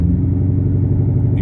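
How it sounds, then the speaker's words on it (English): Deep, steady exhaust rumble from a Cadillac CTS-V with its catalytic converters deleted, loud and continuous, heard close with no talking. "My exhaust is extra loud."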